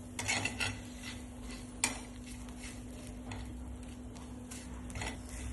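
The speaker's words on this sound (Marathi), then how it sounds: "आता लसणाच्या पाकळ्या सुद्धा आपण या मिरच्यांमध्ये टाकून घ्यायच्या आहेत आणि पुन्हा असं मीडियम गॅसवर असं भाजून घेऊ" Green chillies and garlic cloves dry-roasting in a pan over medium gas, heard as a faint sizzle under repeated scraping and clinking as a utensil stirs them, with a low steady hum in the background.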